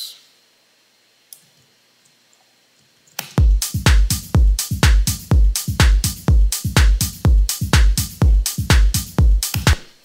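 After a quiet opening, a loud drum pattern kicks in: punchy low kicks and snappy hits in a steady, repeating groove with a roomy, reverberant tail.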